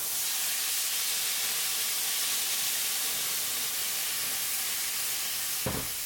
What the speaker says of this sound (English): we're going to deglaze the pan with some red wine